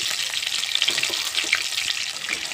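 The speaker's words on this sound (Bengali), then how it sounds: "এখন মাছ ভাজাটাকে তুলে নেব। দেখুন ভাজা হয়ে গেছে" Pangasius fish pieces fry in oil with a steady, bright sizzling hiss, crackling evenly and fairly close throughout.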